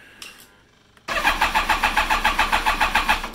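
A BMW K1300S motorcycle engine with no fuel cranks over without catching: a short click, then a rapid, even, loud chugging of the starter spinning the engine, about a dozen pulses with no firing.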